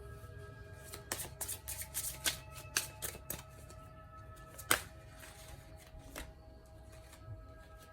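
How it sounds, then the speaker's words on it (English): Crisp riffling bursts of a card deck being shuffled, several quick ruffles in a row with short gaps, close by and fairly quiet, no voices. "so let's shuffle again"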